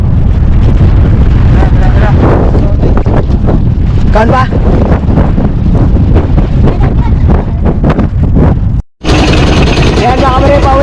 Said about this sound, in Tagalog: So malakas na yung hangin, saka alon.